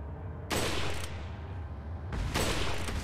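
Two bursts of rapid weapon fire ring out in the video game Resident Evil 4, each lasting about half a second to a second. The shots are loud and close, separated by a short gap.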